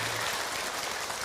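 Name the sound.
audience applauding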